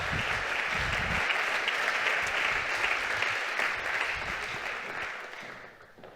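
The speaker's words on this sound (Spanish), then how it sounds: "recibamos con un fuerte aplauso, Juanjo Bueno, periodista." A conference audience applauds a panel moderator at a solar energy event, a dense, steady clatter of clapping that fills the room and fades toward the end.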